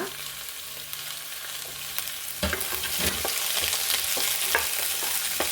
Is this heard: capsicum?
yes